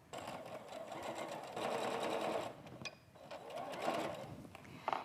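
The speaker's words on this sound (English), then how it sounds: "so now I'm going to sew these 2 units together, and then we'll sew all 4 together" A sewing machine stitching quilt pieces together for a mod-style wall hanging, a close, steady mechanical whir with a short pause midway before it runs on again.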